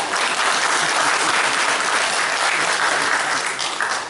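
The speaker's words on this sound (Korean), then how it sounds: "우리 남자분들 모두 박수 한번 쳐주시죠" A church congregation, the men, claps in sustained applause, dense and steady throughout with no talk over it.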